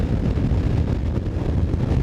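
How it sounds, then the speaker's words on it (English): Strong wind buffets an outdoor microphone in a steady, loud low rumble that fills the whole stretch, with no voices over it. "Oh, it's windy."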